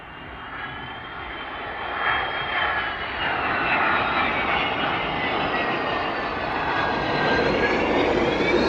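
A Maersk cargo jet comes in to land at East Midlands Airport, its engines roaring loudly and steadily nearby and building slightly as it nears touchdown.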